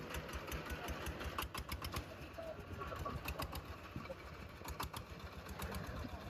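A small mini wheel loader's engine runs steadily close by with a fast, even mechanical chatter and rhythmic ticking, with faint chirps in the background.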